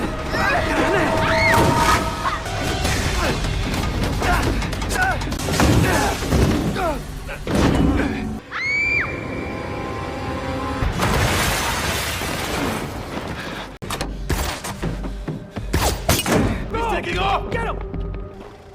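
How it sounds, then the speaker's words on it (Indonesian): A bomb blast in a film scene sets off loud, dense crashing and shattering among other action sounds, carried under a continuous voice talking over the scene. "bom yang tertanam di gigi tersebut meledak"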